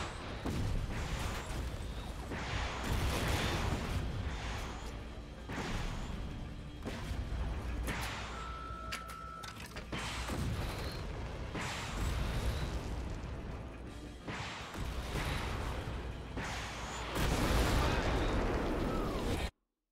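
Missile launcher fire and explosions in a video game, with repeated heavy blasts and booming bursts following one another almost without pause for the whole stretch, loud and close.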